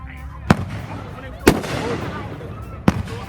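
Three sharp fireworks bursts crack out at separated intervals, each loud and booming against a low background rumble of an outdoor display.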